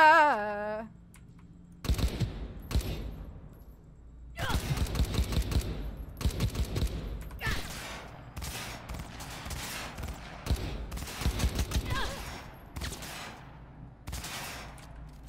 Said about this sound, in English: Cover can protect you from enemy fire.